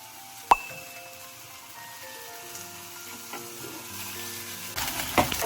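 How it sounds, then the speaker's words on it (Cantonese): Chicken wings pan-fry over medium-low heat in a lightly oiled non-stick pan with a soft, quiet sizzle, opened by a sharp clink and rising a little toward the end. "我哋逐隻放入啲雞翼，用中細火煎香佢"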